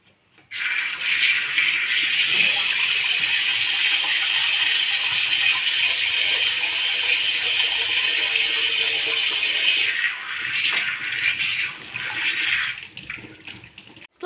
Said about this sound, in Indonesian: selanjutnya saya akan melakukan cuci tangan